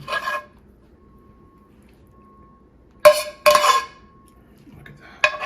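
A plate of scrambled eggs set down beside bacon on a kitchen counter, giving two short ceramic clinks and clatters close by, separated by quiet, with a final light knock at the end.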